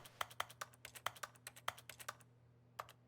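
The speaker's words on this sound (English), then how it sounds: "I like that keyboard noise when you press E." Computer keyboard keys pressed one after another in a quick, uneven rhythm, sharp clicks close by but quiet, then a brief pause and two final presses.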